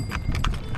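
A horse's hooves clip-clop in a quick, steady rhythm as it pulls a tanga cart through a rural border village, the bright knocks close and clear over a low rumbling background.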